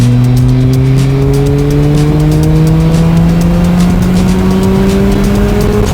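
A rebuilt Mazda RX-7 rotary engine pulls hard under load, its loud, high-pitched wail climbing steadily through the revs in a continuous run close to the microphone.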